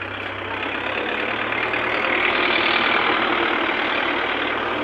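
A tractor engine runs steadily and fairly loud at a low idle-like rumble as it moves slowly through a potato field while fertilizer is being applied, a constant droning hum with no talk.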